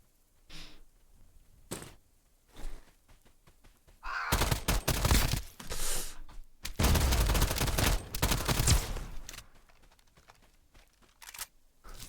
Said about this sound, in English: Trying to hit me with a grenade?